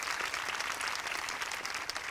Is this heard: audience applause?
yes